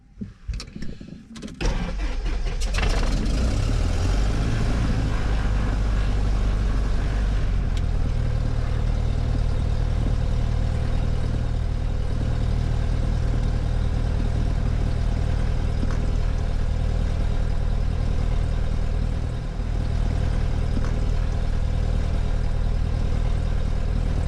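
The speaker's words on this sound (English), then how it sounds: "let's turn the engine on" Cessna 172 piston engine cranks and catches, then settles into a loud, steady idle rumble that runs on unbroken, heard up close from inside the cockpit.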